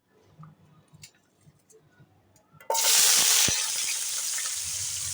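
Chopped onion hits hot oil in a wok and erupts into a loud, sudden sizzle that settles into steady frying, after a few quiet clinks in the kitchen.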